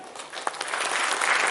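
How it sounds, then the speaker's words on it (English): Audience at a Rotary music show gives a guest a burst of steady, dense applause that swells slightly, heard from within the hall. "I would like to have the big round of applause for First Lady, Mrs. Manonmani."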